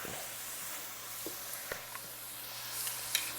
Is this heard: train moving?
no